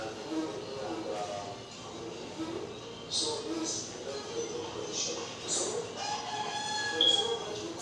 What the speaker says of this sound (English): So with this video, I need you to focus more on chicks.